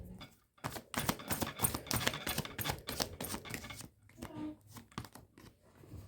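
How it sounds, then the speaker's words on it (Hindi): Tarot cards being shuffled by hand during a pick-a-card reading, a close series of quick riffling, slapping bursts with short pauses between them, fairly quiet. "ओके, बार और शफल कर लेते हैं।"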